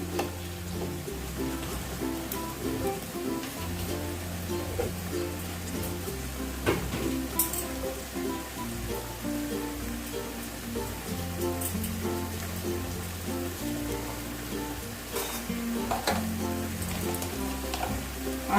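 Ghee sizzles steadily in a pan of cabbage cooked with fish head, a constant crackling fry that runs on without a break, with a few brighter pops here and there.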